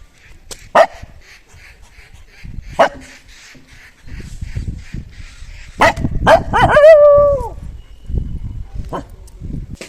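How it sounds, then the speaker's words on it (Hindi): A dog barks in sharp, separate bursts, then lets out a higher whining yelp, fairly close, with a person's voice murmuring between the barks. "कोको बहुत ज़्यादा भौंक रही है।"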